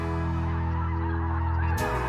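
Snow geese honk loudly as they come in over a spread of white goose silo sock decoys during an Alberta hunt, a dense continuous chorus of calls with a sudden broadband burst near the end.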